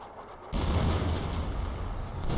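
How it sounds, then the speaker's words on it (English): Heavy artillery fire in a video game booms in a sustained, rumbling roar that starts abruptly and continues loud, with no one talking. "Looks like decoy smoke and real smoke. And real artillery."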